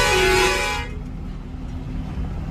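A loud truck horn blares for under a second, then cuts off, leaving a low engine rumble and road noise on the Samruddhi Expressway.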